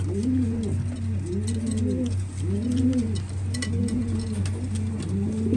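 Racing pigeons in a loft cooing close by, with repeated rolling coos overlapping in a steady rhythm over a constant low hum.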